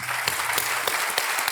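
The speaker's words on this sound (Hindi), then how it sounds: "जोरदार तालियां बज जाएं चित्ररेखा जी के लिए" Studio audience applause on the quiz show Kaun Banega Crorepati, dense even clapping at close range with a few sharper claps standing out, no voices.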